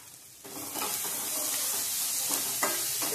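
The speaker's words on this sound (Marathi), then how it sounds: "तेलात चांगला कांदा टोमॅटो भाजून झालाय।" Onion and tomato sizzle steadily in hot oil for upma, with a quieter start giving way to continuous close frying hiss and a few faint stirring scrapes.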